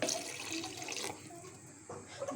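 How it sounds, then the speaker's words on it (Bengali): Water pours into a cooking pot of braised vegetables for Saudi-style shorba soup, a steady splashing stream that runs for about a second, then softens into a quieter trickle with a brief final splash. "এই পর্যায়ে এখন আমি পানি দিয়ে দিলাম"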